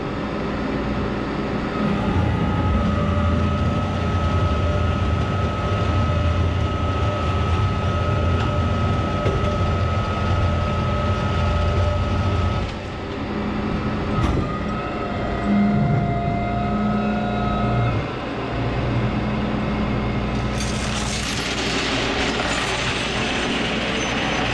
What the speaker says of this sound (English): I'm fixing to hook this trailer up right here.